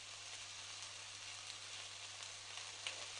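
Vada batter dropped into hot oil for a vada curry, a steady broadband sizzle of frying holding at an even level throughout with a faint low hum beneath and no voices.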